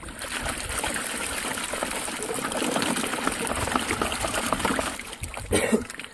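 A gold pan shaken underwater to settle mining material gives continuous sloshing and trickling water, with a brief louder splash near the end.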